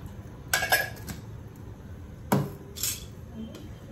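A spoon clinks against a pot while sugar and cream are stirred into kheer, giving a few sharp metallic taps spread over a few seconds against a quiet background.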